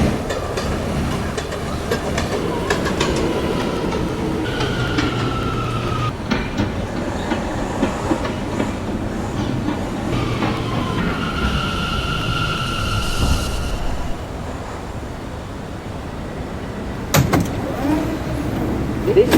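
An R179 M local subway train runs on the Myrtle Avenue line in Brooklyn, a steady loud rumble of wheels on rail with clatter and brief whining tones, continuous throughout at close range.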